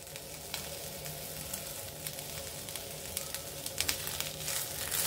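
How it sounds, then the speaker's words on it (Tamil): Grated coconut and drumstick leaves frying in a pan give a steady, dense sizzle with a few louder crackles and pops toward the end, close and continuous with no talking. "வாசனை செமையாக இருக்குது முருங்கைக்கீரையோட அந்த தேங்காய் ஃப்ரை ஆகிறது"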